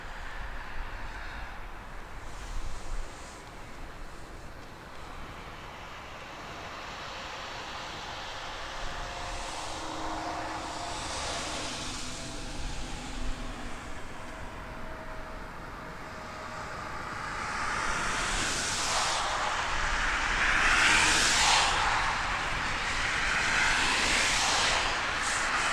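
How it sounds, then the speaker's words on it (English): A United Boeing 737-800 landing on runway 5 at Toronto Pearson, a distant jet rumble and whine that slowly builds and swells louder toward the end, heard from afar without talk. "Looks like on runway 5, we're going to see a 737-800 coming in to land."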